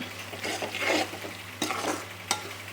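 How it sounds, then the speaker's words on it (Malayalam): Close frying sizzle with scraping strokes of a spoon stirring spice paste in a pan for beetroot lime pickle, plus a couple of sharp knocks against the pan. "എല്ലാ അരപ്പും ഒരേപോലെ തന്നെ വറുത്ത് വരണം"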